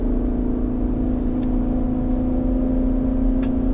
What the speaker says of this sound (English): When we come to the bottom of the bridge at 80 kilometers an hour, then I'll floor it and we'll see how it responds.